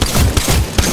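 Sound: gunfire in the video game Apex Legends

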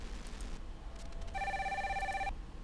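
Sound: telephone ringing in the video game Spycraft: The Great Game

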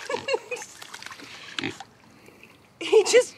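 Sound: pig grunting

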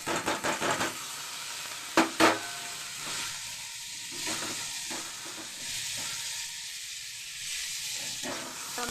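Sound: tomatoes sautéing in a pan with onions

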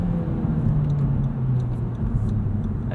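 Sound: car engine revs dropping after clutch in

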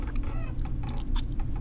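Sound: bird clucking while being eaten, from video game I'm Counting To 6

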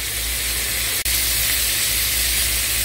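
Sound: green beans sizzling in a pan

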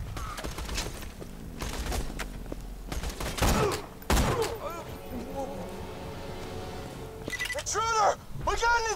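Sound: gunfire in video game Borderlands 2

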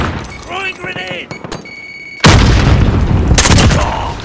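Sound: grenade explosion in a video game

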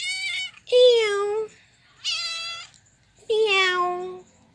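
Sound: cat meowing

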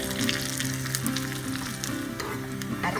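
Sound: coconut and curry leaves frying in a pan

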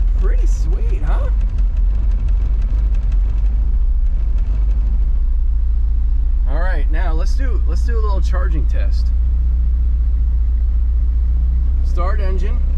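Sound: car engine started and idling

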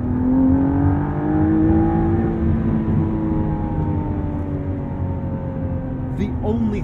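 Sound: McLaren Artura supercar accelerating hard

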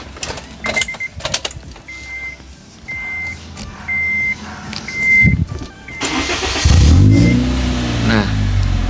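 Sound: car with stock exhaust engine revving

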